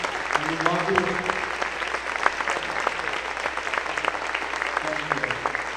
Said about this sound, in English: everybody give them a round of applause, standing ovation